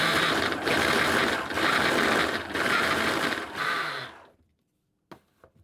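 Food processor pulsing a digestive biscuit and cold butter mixture, four loud whirring bursts broken by short pauses, then the motor winds down and a couple of faint clicks follow.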